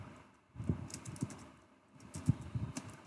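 Keys tapped on a computer keyboard while entering VBA code, two short bursts of soft close keystrokes separated by a quiet gap.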